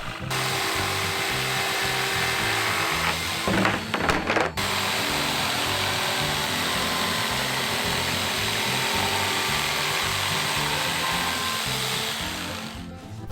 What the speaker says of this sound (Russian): Остается ее только вырезать с помощью электролобзика.